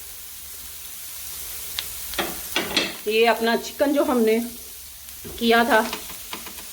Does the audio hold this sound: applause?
no